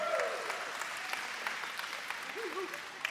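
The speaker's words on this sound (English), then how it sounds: "Come on, you can clap for that." Church congregation applauding, a steady wash of clapping throughout with a voice speaking over it.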